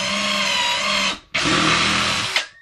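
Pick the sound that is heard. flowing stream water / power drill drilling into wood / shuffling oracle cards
power drill drilling into wood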